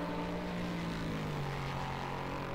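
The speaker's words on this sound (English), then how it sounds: "Oh, I love the sound of that car." A GT3 race car engine in the Project CARS 2 racing game holds a steady droning tone with a sustained harmonic whine, loud and continuous throughout.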